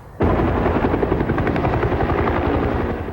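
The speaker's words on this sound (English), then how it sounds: "throw in a couple of helicopters snaking low around Des Moines" A helicopter flying low around Des Moines roars in abruptly and stays loud and close, its rotor beating rapidly and steadily before easing slightly at the end.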